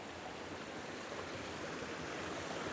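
Steady rushing of creek water flowing along Shaw Mountain Road, a constant even hiss of moving water with no voices.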